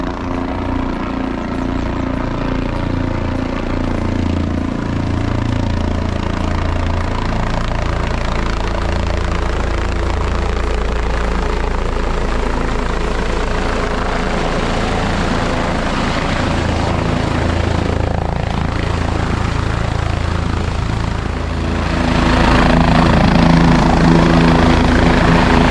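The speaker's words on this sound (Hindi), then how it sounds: "और ये लीजिए, आज के दिन का पहला हेलीकॉप्टर आ रहा है।" The first helicopter of the morning arrives at Kedarnath Dham, its rotor and engine roar steady and loud throughout, swelling nearer toward the end in the mountain setting.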